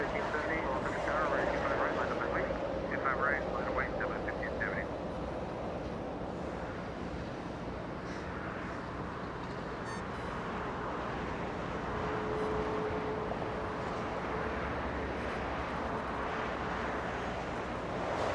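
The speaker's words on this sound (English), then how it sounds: "That is a little A320 lifting off." A small Airbus A320 lifts off from runway 25 right at Los Angeles International Airport, a steady distant engine roar under wind, while a voice talks over it.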